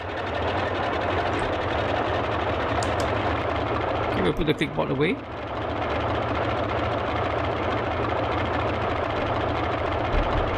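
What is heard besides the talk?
Boeing 247D engine running, MSFS 2020 video game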